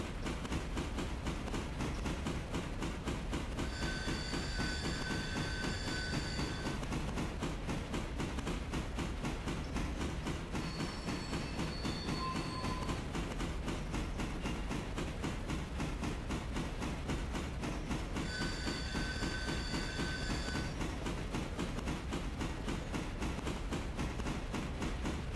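A locomotive pushes to top speed in the train game Railroader, a steady rumbling roll with rapid rhythmic clatter that runs continuously, and brief high whistle-like tones rise twice over it.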